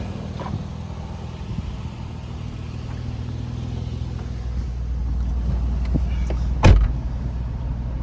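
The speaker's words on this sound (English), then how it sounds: "Engine's very responsive." A truck engine idles steadily with a low rumble up close, swelling slightly louder near the end, with a sharp clunk toward the finish.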